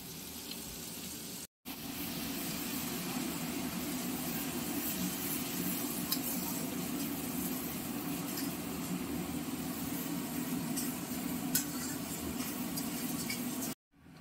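Chicken for a tandoori kabab curry frying in its own fat, a steady low sizzle and bubbling that runs evenly throughout, broken by two brief silent gaps.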